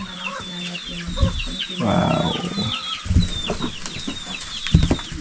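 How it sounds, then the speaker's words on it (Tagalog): Chickens cluck close by in a yard, repeated short clucks mixed with a brief flutter and other animal sounds, while a person briefly exclaims. "Gusto na yata sumama ng manok ah."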